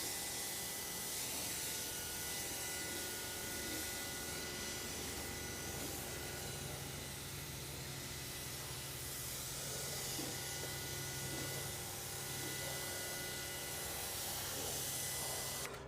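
Sun Joe 24V-X2-120 pressure washer rinsing soap off a car, a steady close spray hiss with a low motor drone running unbroken throughout.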